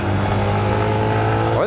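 A light Honda CG 160 Start motorcycle is ridden on a test ride, its engine droning steadily and loudly at a constant pitch before shifting slightly at the end.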